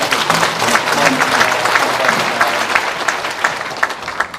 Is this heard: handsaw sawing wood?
no